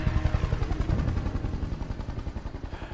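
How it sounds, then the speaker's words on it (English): Helicopter in the Just Cause 2 game, a loud, close, rapid rhythmic rotor thump that throbs steadily throughout and fades slightly toward the end. "Am I gonna have to jump out of this helicopter?"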